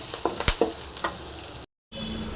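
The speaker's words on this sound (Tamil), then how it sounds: "நல்லா ஃப்ரை ஆகட்டும்" Grated carrot fries in a pan with onion, coriander and curry leaves: a close, steady sizzle broken by a few quick spatula clicks and scrapes, then a short moment of silence before the frying hiss returns.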